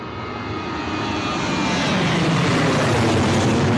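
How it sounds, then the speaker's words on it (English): A Ryanair Boeing 737 departs low overhead from Bristol Airport's runway 09, its jet engines building to a loud, broad roar that swells steadily as it climbs past. "Low and loud from the Ryanair 737, low and loud."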